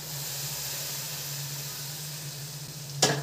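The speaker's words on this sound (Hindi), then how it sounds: "अब तड़के में कश्मीरी दाल में डाल देंगे, इसको चलाएंगे।" A spiced tempering goes into Kashmiri-style Sultani dal with a continuous soft sizzling hiss over a low hum. A sharper burst of sizzle comes near the end, and there is no talking.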